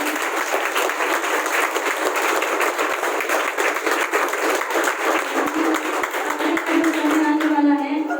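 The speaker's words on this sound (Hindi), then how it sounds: "एक बार जो नई बहनें आई हैं उनके स्वागत के लिए जोरदार तालियां।" A roomful of women at a gathering in Karnal gives loud, sustained applause, a thick continuous patter of clapping hands that keeps up to the end.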